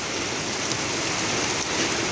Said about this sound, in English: It did say we were going to get some heavy bouts of rain today.